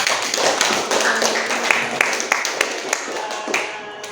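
Scattered classroom clapping from several people, uneven and roomy, with a murmur of voices beneath, the claps thinning out toward the end.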